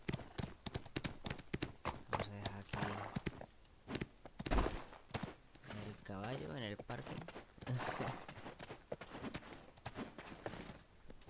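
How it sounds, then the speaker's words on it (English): Horse hooves clip-clop in the Black Desert game, a steady walking rhythm of close, clear footfalls mixed with game music, effects and a voice talking over them. "Vamos a dejar aquí el caballo."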